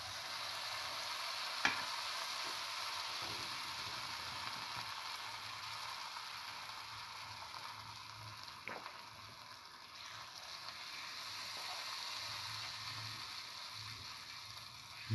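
Jackfruit and wheat flour fritters frying in hot oil give a steady, moderately quiet sizzle with faint bubbling throughout, a few soft clicks along the way and no talking.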